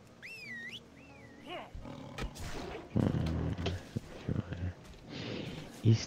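A tiger in the World of Warcraft: The Burning Crusade video game growls and roars several times in loud bursts, mixed with other game sounds and someone speaking German over it.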